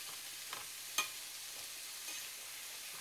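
Carrots being stirred in a pot while making carrot soup with coconut cream, heard as faint soft scraping with one brief sharper clink against a steady low kitchen hum.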